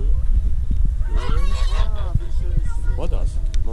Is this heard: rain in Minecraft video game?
no